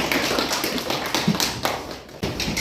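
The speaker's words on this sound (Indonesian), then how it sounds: "tepuk tangan Mbak Label" A small classroom group claps for a student presenter, close, uneven hand claps and taps in a loose ragged rhythm, fairly loud and without talk.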